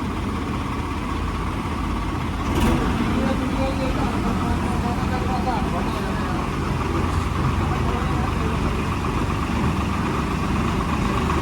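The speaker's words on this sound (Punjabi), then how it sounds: "ਦੇਖੋ ਜਮਾਂ ਹੀ ਟਰੈਕਟਰ ਦੀ ਆਵਾਜ਼ ਆਉਂਦੀ" A tractor engine idles with a low, steady rumble throughout, while people talk over it intermittently.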